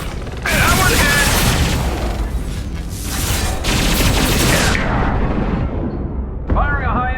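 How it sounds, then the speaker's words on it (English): High-impact weapon shots in the Mass Effect 2 video game, loud dense blasts and mechanical combat noise filling the clip, with voices heard in between. "Firing a high-impact shot."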